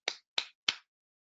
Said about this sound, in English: soprano hand claps. It's fingers of the hand on the palm of the other